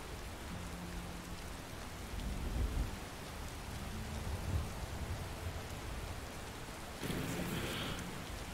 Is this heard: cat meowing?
no